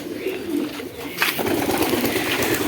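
Pigeons coo on a poultry farm, a steady run of soft, low, rolling calls that overlap continuously, close by and fairly loud.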